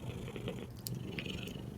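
A domestic cat purring right up close, a steady low rumbling buzz with a few soft rustles and light clicks over it, and no talk during the purr.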